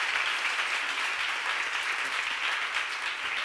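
Sustained, even applause from a church seminar audience, a dense wash of many hands clapping at steady volume throughout, with no talk over it.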